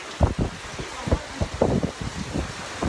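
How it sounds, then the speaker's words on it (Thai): Strong gusting wind during Storm Pabuk on the Thai coast, rough buffeting roar against the microphone with irregular thumps and surges, no talk. "น่ากลัวมากลมมันแรงด้วยแล้วก็มันดันน้ำทะเลขึ้นมาอยู่ในรถ"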